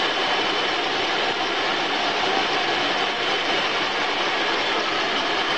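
A homemade bandsaw with inner tube stretched over its wooden wheels runs steadily, a continuous even whirring hiss with no pauses, no voices.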